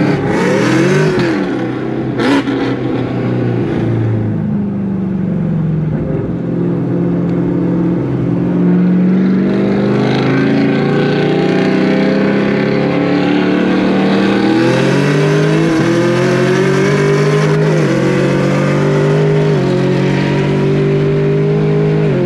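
A loud Chevrolet Camaro ZL1 1LE with manual transmission roars and revs hard at a racetrack for the whole stretch, pitch climbing through gear changes, close and unbroken.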